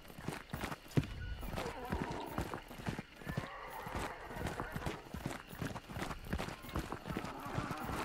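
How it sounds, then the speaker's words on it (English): A horse in Hunt: Showdown clip-clops and whinnies near the listener, with busy hoof beats and snorting neighs under faint background noise. "The horse is still making noises"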